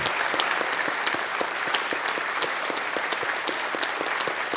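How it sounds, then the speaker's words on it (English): Even, sustained audience applause at a university presidential inauguration ceremony at Illinois Tech, many hands clapping steadily at a constant level throughout. "Please join me in a sincere round of applause for all that Alan contributed to the advancement of our university"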